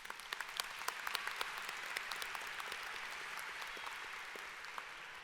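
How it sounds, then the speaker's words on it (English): Applause from a graduation audience at an ECPI University ceremony in Richmond, a steady crowd clapping that holds at moderate volume for several seconds with scattered sharper claps standing out. "let's give them a round of applause"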